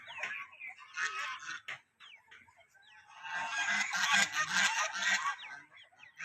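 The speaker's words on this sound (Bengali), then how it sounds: "টেপি হাঁস" Domestic ducks honking and quacking in a village setting, repeated nasal calls in two loud bursts separated by a brief pause, fairly close.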